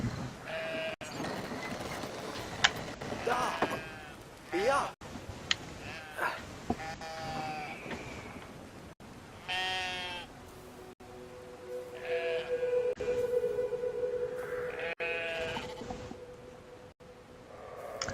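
Sheep bleating in the video game Brothers: A Tale of Two Sons, several wavering bleats scattered over a busy bed of game sounds with a sustained mechanical, train-like drone and clatter, no talking.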